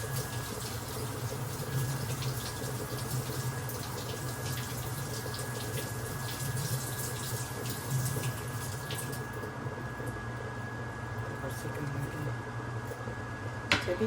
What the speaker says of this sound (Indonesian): Setelah kita bersihkan, kemudian kita cuci bersih.